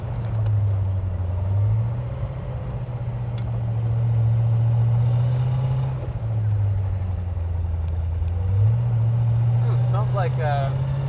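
A 1966 Chevrolet Corvette Stingray with a 427 big-block V8 rumbles steadily from inside the car, its low engine note dipping and climbing again as it shifts down to first, with a voice talking over it.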